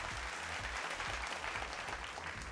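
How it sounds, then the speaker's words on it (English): An audience applauds a school quiz team at a televised Pentathlon contest, with steady, even clapping of moderate loudness throughout and no voices. "Let's give them a round of applause."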